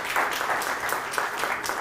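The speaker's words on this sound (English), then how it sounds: "Everybody, give another round of applause to." Dense applause from a crowd, steady and moderately loud throughout, with no distinct voices.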